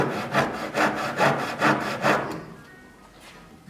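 A hand saw cuts through wood in a workshop with about five quick, rhythmic back-and-forth strokes, close and fairly loud, before the sawing stops and only a quiet room remains.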